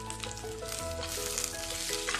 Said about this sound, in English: Now we can add sliced big onion, so along with the onion I have added a pinch of salt